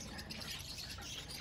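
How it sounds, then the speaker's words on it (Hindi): Lovebirds and parrots, including lutino and black mask lovebirds, chirp and tweet together in a busy, continuous chatter at moderate distance, with no talk. "बड़े अच्छे अच्छे तोते आए हुए हैं।"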